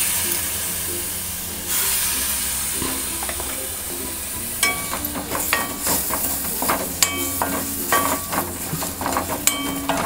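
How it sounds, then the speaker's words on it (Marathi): A spiced masala with salt, turmeric and lemon juice sautés in a pan for a stuffed pomfret fry, a continuous close sizzle broken by scraping, clicking stirs that grow busier toward the end. "पुन्हा एकदा छान परतून घेऊया."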